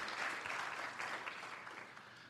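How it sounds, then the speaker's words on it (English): Audience at an academic policy event applauding two organizers, a brief, soft and distant patter of many hands clapping with no break. "another big applause to Javier and David"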